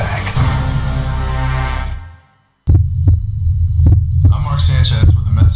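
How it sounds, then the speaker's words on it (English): A recorded human heartbeat in a radio public-service ad follows a burst of music and a short silence. Low throbbing pulses repeat steadily and up close under a voice-over. "This is the actual sound of my heartbeat."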